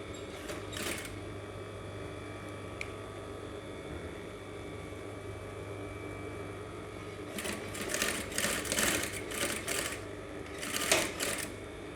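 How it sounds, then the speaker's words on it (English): A sewing machine stitches the seams of an aso-ebi cap, a steady low motor hum running throughout with bursts of faster, louder needle clatter near the start and again in the final seconds; nobody speaks. "from this side we can move to our machine and start doing the joining like this"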